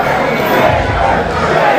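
A crowd roars at a Superkick'd wrestling event as a wrestler celebrates among the fans, a dense, loud wash of cheering and voices that holds steady through the clip.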